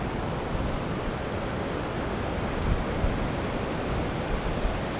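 Ocean waves wash steadily against a shoreline, a soft, continuous hiss of surf with small swells and a touch of wind, no voices.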